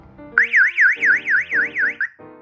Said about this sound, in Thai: ลองกดปุ่ม SOS นะครับ เพื่อจะให้ตัวไซเลนเนี่ยอะลามขึ้นมานะครับ